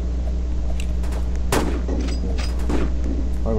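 Video game gunfire: one sharp shot stands out over a steady, busy game soundscape of ambient hum and smaller clicks and bursts, with no talking.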